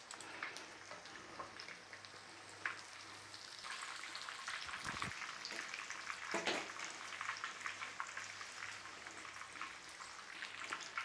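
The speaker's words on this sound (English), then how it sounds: "We've got to fry it both sides, cook it through there, and then it comes out." Chicken breast for a Teesside parmo frying in a pan, giving a steady soft sizzle and crackle throughout with a few brief louder spits, no talking.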